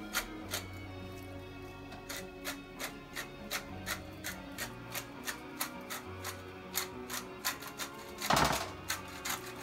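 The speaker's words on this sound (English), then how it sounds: "we're gonna crack some black pepper on them" Black pepper cracked in a grinder over halibut cheeks dressed with olive oil, a steady run of short, even grinding clicks close by, with a brief louder rasp near the end.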